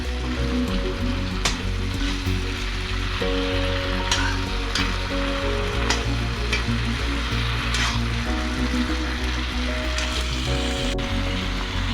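Chili chicken fries in a hot pan, with a steady loud sizzle and intermittent scraping stirs, over a low continuous hum, no voices.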